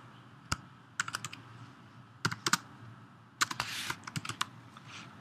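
Typing on a computer keyboard in short bursts of clicky keystrokes with pauses between, close and fairly quiet, no speech.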